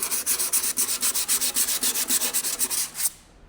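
A boat hull sanded with a power sanding wheel, loud rhythmic abrasive passes pulsing steadily about five times a second, close and continuous before cutting off abruptly.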